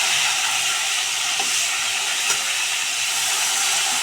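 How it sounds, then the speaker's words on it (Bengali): Small live fish fry crisply in a pan of hot oil, giving a loud, dense, unbroken sizzle with no talking. "ভালো করে কড়া করে ভেজে নিচ্ছি জ্যান্ত মাছ।"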